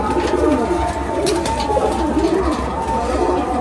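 Andha Madrasi pigeons feeding their chicks, close, repeated soft throaty cooing with rising and falling warbles over a steady background murmur, faint voices nearby.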